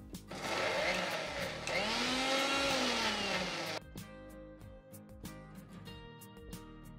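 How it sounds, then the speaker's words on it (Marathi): An onion is coarsely ground in a kitchen mixer grinder: a loud, close motor whir runs for about three seconds with a rising pitch, then drops to quieter clattering and rattling. "तो कांदा आपण मिक्सरमधनं बारीक करून घेणार"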